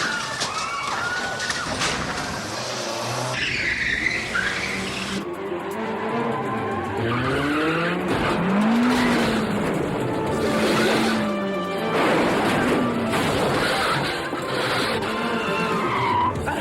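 Brand-new Mitsubishi sports cars skidding through a stunt chase, with repeated tyre squeals rising and falling over revving engines and a hissing roar, loud and close throughout.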